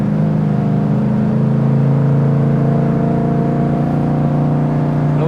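A 1972 Chevy Camaro SS 396 with fuel injection idles while warming up, a steady close engine drone with a strong low hum and faint rising revs, continuous and loud with no talk.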